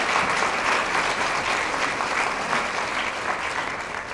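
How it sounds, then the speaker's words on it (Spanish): Steady, loud applause from a large crowd, dense clapping sustained throughout without pause. "vamos a dar inicio con un fuerte aplauso"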